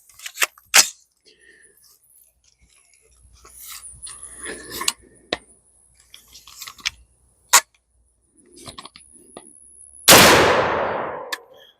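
A budget .50 cal AR-15 fires a single 300 grain Hornady polymer tip round. The shot comes as one loud, sharp blast near the end, after a stretch of quiet clicks and handling noises.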